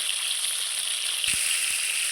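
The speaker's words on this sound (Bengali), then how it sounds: "এই পিসটাটাও লাল লাল করে আমি ভেজে নেব" Fish pieces fry in hot oil until reddish-brown, giving a steady bright sizzling hiss throughout with a couple of soft low knocks near the end and no talking.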